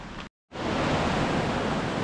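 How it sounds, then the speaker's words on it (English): A mountain river in Jánska Dolina, Slovakia, rushes steadily as broadband, loud flowing water with a brief silent gap near the start, then a continuous close roar with no voices. "Wow, very cool river."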